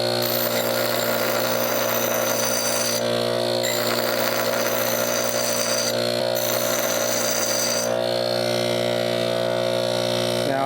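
A Harbor Freight woodchipper blade being sharpened with a power tool, giving a steady loud grinding whine with tonal hum that dips briefly a few times, heard alone.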